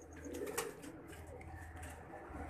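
A round, broad-boned pigeon coos softly alongside its slender female, a faint low murmur with a brief brighter burst near the start and no speech.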